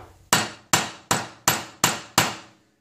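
Six loud, regular hammer strikes on a hot metal spoon against an anvil, each with a short metallic ring, steady rhythm, close by and alone.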